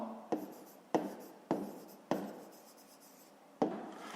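Pen strokes writing numbers by hand on paper, five distinct scratchy strokes in an uneven rhythm, close and quiet with no voices.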